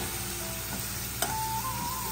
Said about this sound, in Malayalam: ഒരു പാൻ അടുപ്പത്ത് വെച്ച് എണ്ണ ചൂടായിട്ട് അതിലേക്ക് പപ്പടം ഇട്ട് കൊടുക്കുന്നു.